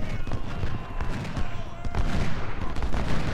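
Dense, continuous crackle of musket volleys and gunfire from a Civil War battle in the strategy game Ultimate General: Civil War, steady and layered throughout with distant booms mixed in.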